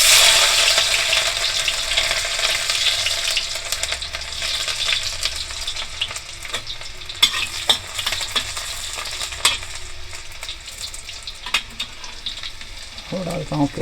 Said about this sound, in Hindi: तेल हमारा गर्म हो चुका है, इसमें डालता हूँ लहसुन।